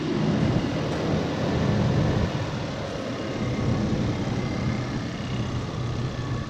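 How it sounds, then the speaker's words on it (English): The clutch fan on a 2019-2021 Ford Ranger gives a loud, continuous, close roar of rushing air that stays steady from start to finish. "A clutch fan on these Rangers, guys, I tell you, they're loud."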